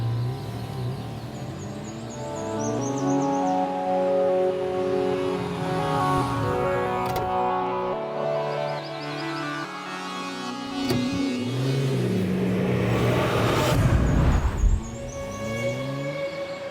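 A car being driven out and pulling away, its engine revving through several rising and falling gear-change sweeps, loud and close, with a louder surge near the end and faint background music.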